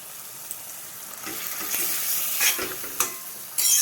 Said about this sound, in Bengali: তেলটা হয়ে গেলে দেখো মাছটা দিয়ে দেবো আস্তে আস্তে।